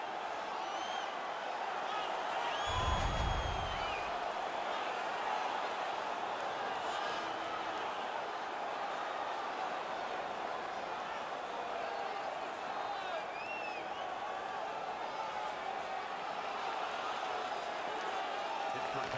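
Home hockey crowd in the video game NHL 19 roaring after a fight, a dense, steady wall of cheering and whistles at moderate level with a brief low thump early on, continuous throughout.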